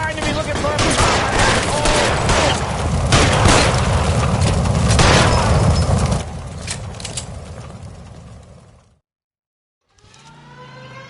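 Heavy video game gunfire fills a shootout with dense, loud bursts of rapid shots and booming blasts. It fades into a short silence before faint sounds resume.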